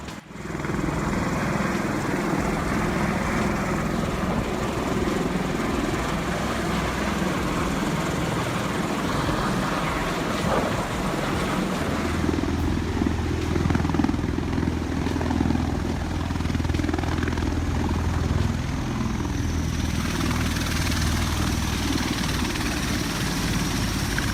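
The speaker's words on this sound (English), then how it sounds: "Watch as this MV-22 Osprey makes a dramatic landing right in the heart of downtown Nashville" An MV-22 Osprey tiltrotor lands in downtown Nashville, its rotors giving a steady, loud, throbbing roar that holds for the whole stretch with no voices.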